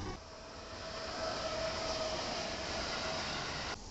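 A JR Nara Line electric train rolls past at very close range, a loud continuous rumble and roar that swells and holds for several seconds, with a faint whining tone running through it.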